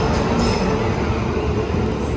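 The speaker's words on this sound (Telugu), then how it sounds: "platform number 4లో Karnataka super fast express వచ్చింది" Karnataka Superfast Express pulling into platform 4 on an Indian railway station, a steady close rumble of wheels and rolling stock with a broad noisy wash and no pause throughout.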